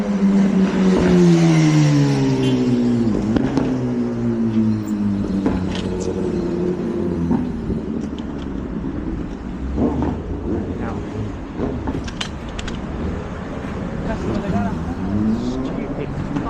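An unregistered motor vehicle with no lights on drives past, its engine tone sweeping down and then rising again as it nears and recedes, loud and steady throughout.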